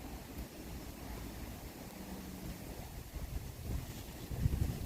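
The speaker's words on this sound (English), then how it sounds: "So we are outside and it is 40 and very windy out" Gusty wind buffets the microphone outdoors on a 40-degree day, a steady roar of noise that grows rougher and louder toward the end.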